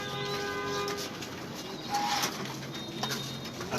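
Pigeons coo softly and repeatedly nearby, their low warbling calls fairly faint over a background hum, with a few light rustles mixed in.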